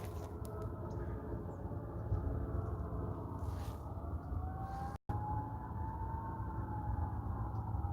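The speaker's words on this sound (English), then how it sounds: "I can still hear all those fucking sirens." Police sirens from a motorcade passing through town, a distant wavering wail that rises and falls over steady low traffic rumble, fairly faint and continuous.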